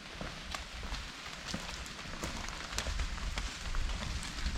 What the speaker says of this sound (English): So the rain is caught up with us.